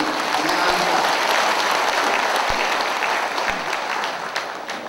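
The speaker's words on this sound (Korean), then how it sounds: "한번 일어서서 박수 한번 칠게요" An audience stands and applauds a visiting speaker at a lecture in a hotel banquet hall, a steady, dense wash of clapping from many hands that holds for about five seconds and slowly tapers.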